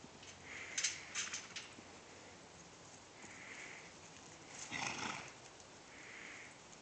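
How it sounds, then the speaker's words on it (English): Horse on a paint horse farm, sniffing and snorting with a few soft hoof clops and faint whinny-like breaths, moderately close and quiet with no talk. "Dirty horse. Dirty, dirty horse."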